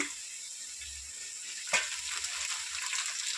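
Mint leaves go into a pan of half-fried onions for a chicken 65 pulao, and a steady oily sizzle and hiss carries throughout, with one brief sharp rustle as the leaves land.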